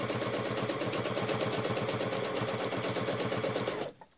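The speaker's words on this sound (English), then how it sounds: "Needles down in the fabric. On the centre, and stitch down." A sewing machine stitches steadily along a quilting ruler, a fast, even mechanical rattle running continuously at close range before stopping abruptly near the end.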